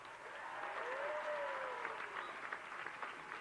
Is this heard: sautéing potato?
no